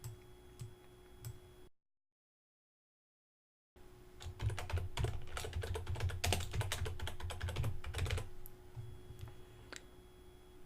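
Rapid clicking on a computer keyboard while editing a website title, in quick close bursts of keystrokes that stop briefly before resuming, faint and steady, with no talking.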